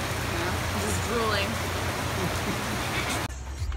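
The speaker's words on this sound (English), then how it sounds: "It's raining." Steady rain hisses throughout at an outdoor county fair, with faint voices talking underneath.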